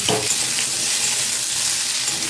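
Potatoes and pumpkin fry in a pan, a loud, steady close sizzle with a brief scrape of stirring at the start, continuing without voices.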